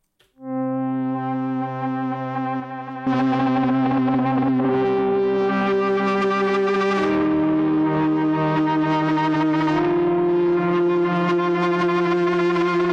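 A sustained electric guitar tone runs through Chroma Console effects modules, and heavier distortion and echo thicken it after about three seconds. It rings on with shifting notes and no speech.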